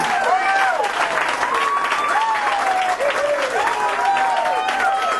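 An audience applauds and cheers steadily after an eight-ball pool trick shot at a Magic Castle show, with whoops and shouts rising over the continuous clapping.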